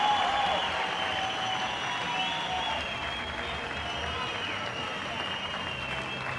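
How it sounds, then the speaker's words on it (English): Spectators at the 2013 FINA World Championships diving event in Barcelona applaud, a broad, distant crowd wash under an arena hum, with faint voices in the background. "Great to see the applause."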